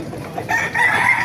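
A rooster crows at a crowded chicken market in Baliuag, Bulacan: a single loud, close call rising sharply partway through, over a faint murmur of background noise.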